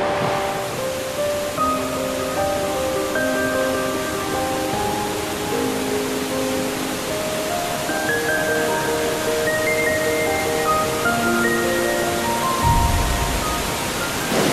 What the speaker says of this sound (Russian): Я уже слышу, как шумит водопад